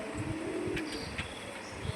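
Fancy Lakha pigeons with feathered feet and fine tails, brought from Kerala, give several low, soft coos in a steady background hum with no talking.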